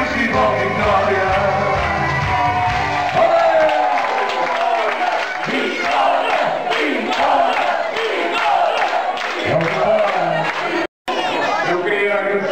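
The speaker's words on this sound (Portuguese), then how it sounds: "Viva a vitória, faz criar voz, gritemos todos bem alto" A dinner crowd at an end-of-season gathering shouts and chants "viva a vitória" together, loud and sustained, with overlapping voices and scattered clapping in a reverberant room.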